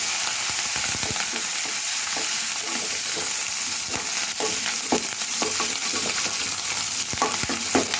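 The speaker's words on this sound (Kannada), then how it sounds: "ಎಣ್ಣೆ ಚೆನ್ನಾಗಿ ಹುರಿಯಿರಿ ಮೆಣಸಿನ್ಕಾಯನ್ನು" Green chillies and curry leaves fry in hot oil for a spinach and moong dal, a steady close sizzle broken by sharp spatula scrapes and stirring clicks against the pan, with no one speaking.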